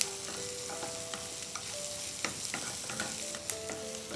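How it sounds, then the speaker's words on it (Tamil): Onions sautéing in a pan for paneer jalfrezi give a steady, close sizzle and frying hiss, broken by a few clicks of stirring against the pan. No one speaks. "வெங்காயம் சேர்த்து லைட்டாக நம்ம சாட்டே பண்ணால் போதும்."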